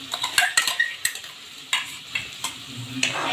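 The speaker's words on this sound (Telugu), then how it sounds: "ఇప్పుడు ఇందులో టమాటా పేస్ట్ వేసేద్దాం" Tomato paste being stirred into hot frying oil and spices for a matar paneer curry, with a soft sizzle under repeated scraping, spoon-on-pan clinks close by, no talk.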